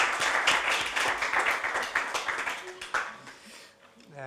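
An audience at a conference in Ancona applauds after a speech, with dense, fairly close clapping that keeps up for several seconds, then thins and fades out.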